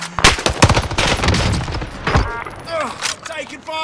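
Gunfire in the Warzone Pacific video game: bursts of rapid shots and sharp cracks crowd the first half, thinning into scattered pops with game effects, while a player talks over the action.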